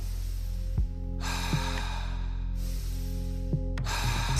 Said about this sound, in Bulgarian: Вдишване през носа и издишване през устата.